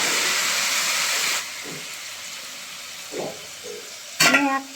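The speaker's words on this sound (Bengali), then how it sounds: "এবার জল দিয়ে দেবো।" Water poured into a hot pan of fried rice and fried hilsa fish heads, a loud sizzling hiss that fades after a second or so, followed by quieter bubbling, a stir and a clink near the end.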